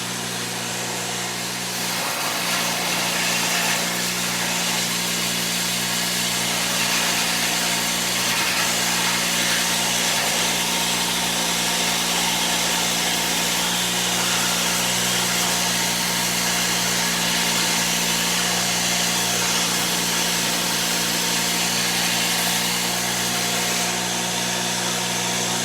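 A drill spins a wooden dowel being shaped into a longbow arrow shaft, a loud continuous whir with steady hum and rough scraping texture running unbroken throughout.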